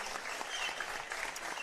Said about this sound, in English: Good sportsmanship from the crowd.